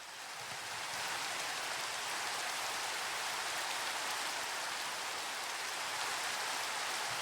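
Steady rain falling in the Minecraft video game, a continuous dense hiss that swells in over the first second and then holds at an even level, with no voices.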